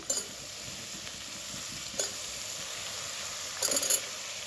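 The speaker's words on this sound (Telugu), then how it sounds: "ముక్కలన్నింటినీ బాగా కలిసేలాగా కలుపుకుందాము" Potato pieces stirred in a pan for curry, soft sizzling underneath with a few sharp scraping clinks of a spoon at the start, middle and end, no talk.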